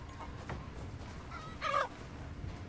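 Chickens in the horror game Resident Evil Village give a short, close cluck around midway against a steady low ambient drone, with a faint earlier peep.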